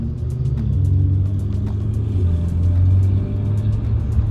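Ferrari idling at a traffic light, a steady, fairly loud low engine rumble heard close by, with faint light ticking sounds above it and no talking.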